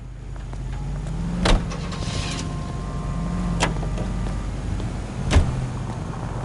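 A car in the L.A. Noire video game, commandeered by a police officer, gives a low steady engine hum with a few sharp door-like clunks spaced through it, moderately loud and close.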